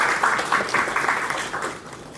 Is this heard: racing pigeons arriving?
no